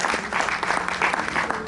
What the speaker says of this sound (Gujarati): ઋષિકેશભાઈ રાવલ માટે આપણે એક વખત તાળીઓ પાડીશું